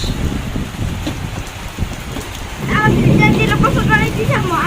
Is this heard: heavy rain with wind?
yes